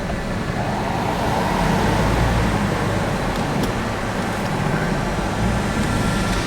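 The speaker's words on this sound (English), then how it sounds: "there seems to be so many vehicles driving down this road." Steady roar of road traffic with vehicles passing continuously, a broad, loud wash of tire and engine noise with no pauses.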